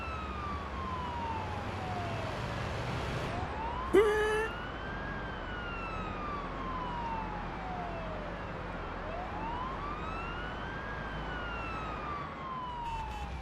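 Police car sirens in the video game Ambulance: A Paramedic Simulator, with two wailing tones sweeping up and down steadily over traffic rumble and a brief burst of noise early on.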